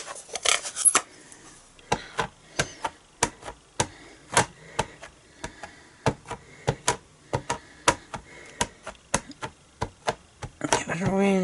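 A rubber stamp tapped over and over onto a Gorgeous Grape ink pad while inking up a floral birthday card. The close, sharp taps come in a steady, slightly uneven rhythm for several seconds, with a faint voice at times.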